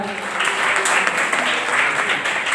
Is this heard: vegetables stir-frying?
no